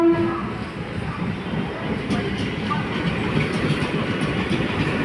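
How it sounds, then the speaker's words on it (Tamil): A suburban train on the Arakkonam to Chennai Central line passes close by, its steady broadband rumble and wheel clatter holding throughout at a fairly loud level, with no talk over it. "இந்த ட்ரெயின் அரக்கோணம் டு சென்ட்ரல் செல்கின்ற ட்ரெயின்."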